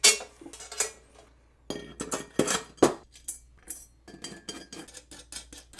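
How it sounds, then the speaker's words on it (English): Metal screws, washers and nuts for a steel welding table being handled, giving a run of sharp, irregular metallic clinks and rattles at close range, with no talking. "we're going to use these long screws with a washer and a nut"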